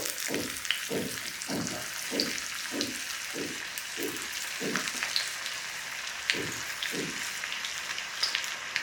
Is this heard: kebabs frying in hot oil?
yes